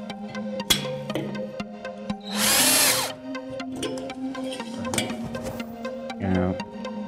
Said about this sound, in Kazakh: Мына шуруповер, қатыратын шуруповер